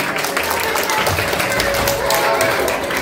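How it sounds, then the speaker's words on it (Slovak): Children clap together at a school carnival costume event, brisk scattered applause from a room of kids that runs throughout, with some voices mixed in. "Zatleskame im."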